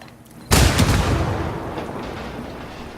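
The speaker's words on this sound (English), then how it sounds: "Explosions look nice in this game." A sudden loud explosion in Ghost Recon Wildlands bursts in after a quiet moment, then rumbles and crackles as it slowly fades.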